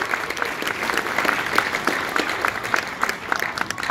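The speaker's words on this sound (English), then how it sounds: "Once again, if you can give a massive round of applause to Mr." Sustained applause from a convention crowd for a guest speaker about The Walking Dead ride: thick, continuous clapping from many people, fairly close and steady throughout with crisp individual claps poking through.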